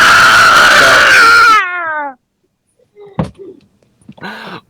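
A person's voice imitating a loud dinosaur: a long, sustained roaring cry that bends downward and cuts off, followed by a few short thumps and a brief rasping burst.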